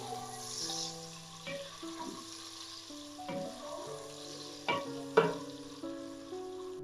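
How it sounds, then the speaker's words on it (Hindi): Onions sizzle softly in a pan with golden-fried garlic while being cooked for a spinach dal, with occasional stirring scrapes and clinks over a low, steady frying hiss. "प्याज को भी सॉफ्ट होने तक फ्राई करेंगे।"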